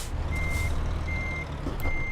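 Reversing beeps from a truck backing up to couple a trailer in Euro Truck Simulator 2, three evenly spaced beeps over a steady diesel engine rumble.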